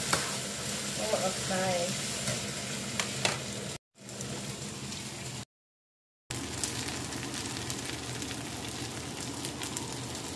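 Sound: tofu frying and spitting in a pan

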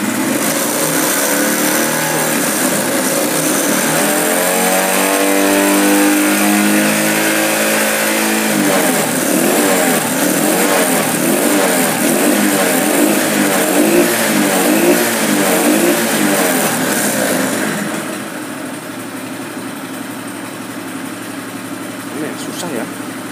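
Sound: motorcycle engine revving with throttle

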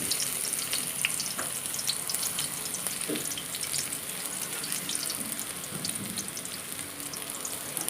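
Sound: onion sautéing in hot oil

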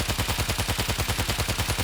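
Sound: gunfire in the video game World War Z: Aftermath

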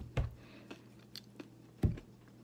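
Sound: chewing crunchy French toast with puffball mushroom

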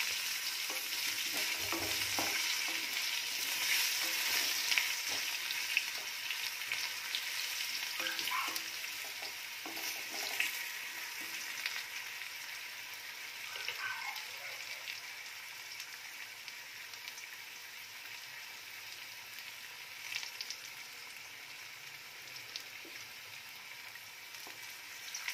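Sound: potatoes being stirred and fried in a pan

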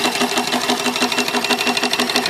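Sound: small steam engine running

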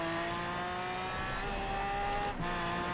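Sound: Mosler race car engine and tires, Forza Horizon 4 video game

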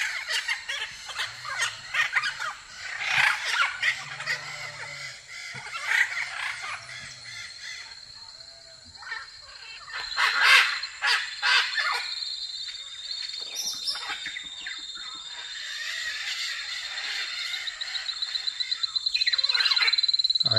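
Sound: parrot squawking on a farm

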